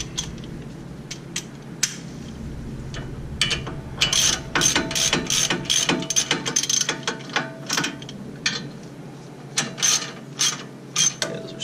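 A half-inch ratchet tightening caliper bracket bolts on a 2014 Ford Explorer: bursts of rapid, close clicking in quick strokes, some sharp isolated clicks between, with no talk.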